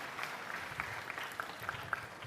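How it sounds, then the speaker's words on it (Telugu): An audience at an official district review meeting in Polavaram claps steadily and fairly densely for a couple of seconds, heard at a moderate distance as one continuous patter. "గట్టిగా చప్పట్లు కొట్టి అభినందించండి"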